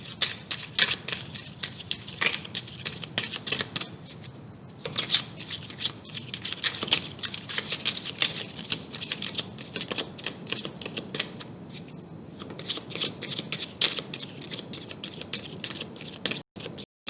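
Romance angel oracle cards being shuffled, a steady run of crisp papery riffles and flicks that continues for most of the stretch with no talk over it.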